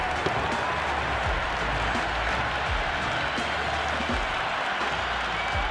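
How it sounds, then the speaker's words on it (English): A stadium crowd applauds and cheers at a cricket match in the video game Cricket 26, a dense, continuous wash of clapping and crowd noise. "The crowd is electric right now."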